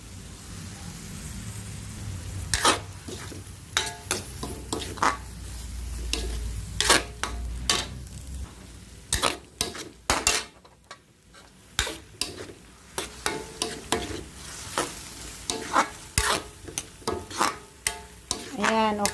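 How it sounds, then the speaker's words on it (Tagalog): Cauliflower stir-fried with oyster sauce in a pan: a low sizzle runs beneath sharp, irregular spatula scrapes and clacks that come in quick clusters, loud and close. "Simpleng paggisa lang ng cauliflower."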